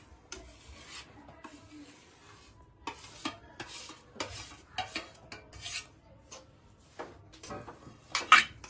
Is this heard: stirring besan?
yes